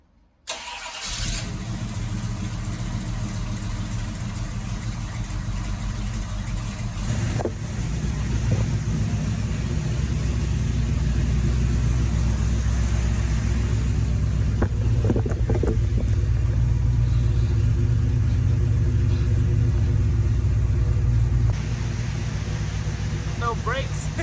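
A 383 stroker V8 in a 1972 Camaro cranks briefly, catches and settles into a loud, steady, rumbling idle close by, with a few revs and some voices talking over it.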